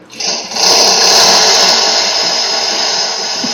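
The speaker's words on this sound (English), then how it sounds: "Power drill sounds" A power drill whines steadily at high pitch, loud and close, holding on for several seconds after a brief ragged start and easing slightly toward the end.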